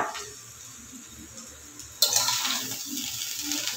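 Meat and shrimp tip into a hot pan for fried rice, setting off a sudden loud rush of sizzling that stays strong and crackling after a quieter, low-humming start.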